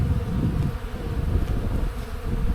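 Honeybees buzzing around their hive as they explore a newly added expansion box, a close, continuous low hum with no voices present.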